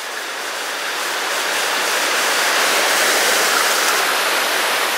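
Broad, steady rush of the River Lyn flowing through the hills of Devon, England, a river prone to flooding; continuous close water noise with no voices.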